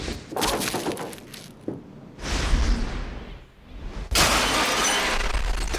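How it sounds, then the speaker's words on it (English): A glass window shatters and explodes outward during a film stunt, with several crashing bursts of breaking glass, whooshes and tinkling debris building into a loud, sustained roar of shards. "We wanted the glass to explode in sort of an ever-expanding circle"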